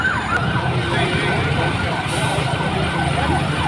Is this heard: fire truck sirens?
yes